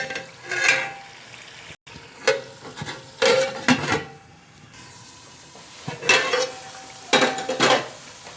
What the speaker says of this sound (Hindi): 3-4 मिनट अच्छे से भुनाई कर लेंगे।